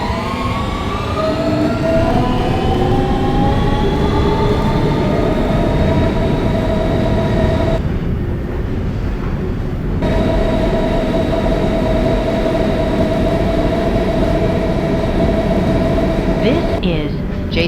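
An R160B Siemens subway car on the W line runs along the track with a loud, continuous rumble and rising, gliding motor whines, briefly dipping into a duller roar midway before the whine returns.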